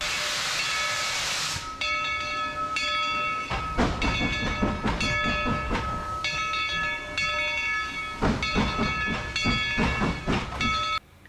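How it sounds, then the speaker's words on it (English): A coal-fired steam train rattles along with rhythmic clacking and metallic clunks over a constant hiss, a loud rolling rumble that continues throughout, at Dollywood in Pigeon Forge, Tennessee. "my favorite ride was the train."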